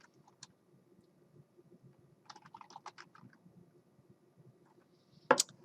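Someone types a search into Google Drive on a computer keyboard, giving scattered soft key clicks with a short burst of taps midway and one sharper, louder click near the end, in a quiet room.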